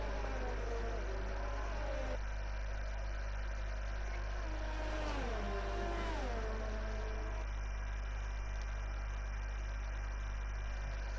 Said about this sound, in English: The engine noises are here.